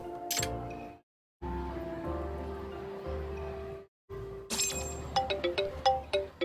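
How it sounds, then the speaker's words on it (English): A phone rings in the video game Judgment, with a repeated electronic ringtone and a run of quick chiming tones near the end, heard over steady in-game background music that drops out briefly twice. "Oh, phone call."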